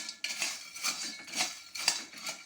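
Boiled, sun-dried and peeled jackfruit seeds roast in a pan, giving close, repeated bursts of scraping and rattling from stirring, about five in a steady rhythm, with no talking.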